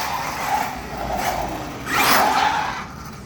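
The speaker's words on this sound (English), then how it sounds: "You hear the tyres squealing there." An Arrma Mojave RC truck running on 4S skids across a concrete parking lot, its tyres giving a sharp squeal near the end over a steady motor whine, with no talking.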